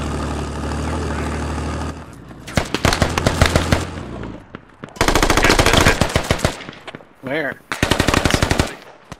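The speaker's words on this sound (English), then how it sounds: "Oh, someone's shooting at me." Rapid automatic gunfire rings out in a squad-based shooter video game, loud close bursts interrupted by gaps, with a brief spoken word mid-clip.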